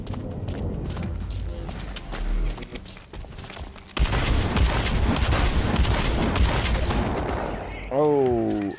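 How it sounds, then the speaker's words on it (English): Shotgun and other gunfire in the shooter game Blacklight: loud, dense bursts of shots that build into a sustained barrage in the second half, with game effects mixed in. "I tried to shoot him with my shotgun that far away"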